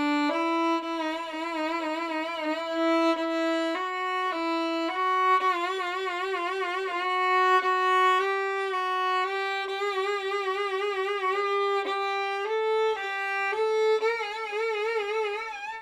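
Close, solo violin playing a deliberately unpretty vibrato bowing exercise, sustained bowed notes stepping between pitches with wide, exaggerated wobbles in each tone, continuous with no talking.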